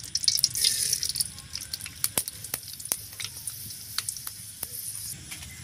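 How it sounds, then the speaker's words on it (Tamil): Fenugreek seeds fry in hot oil in a pan for a dried stingray fish curry, giving a close sizzle with sharp scattered pops and crackles that fade from busy to sparse. "எண்ணெய் சூடாயிட்டு இப்போ வெந்தயம் சேர்த்துக்கலாம்."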